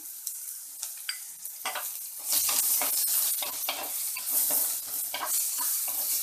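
Salted onions frying in a pan for bendakaya (okra) fry, stirred now and then: quiet spatters at first, then a louder steady sizzle punctuated by repeated scraping stirs close by, no speech.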